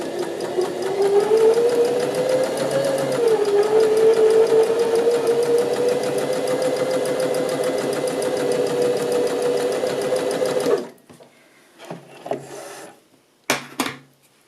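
A sewing machine runs a zigzag stitch along a fabric seam, a steady, close mechanical whir for about ten seconds before stopping, then a few faint handling clicks.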